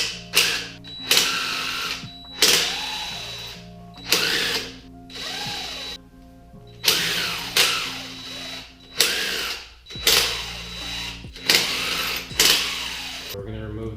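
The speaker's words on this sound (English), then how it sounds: "from here, we're going to go ahead and remove all of these bolts." Power tool bursts spin bolts out of a Tremec Magnum XL transmission case, roughly a dozen short whirring pulses with rising and falling pitch, each followed by a brief pause and clicks.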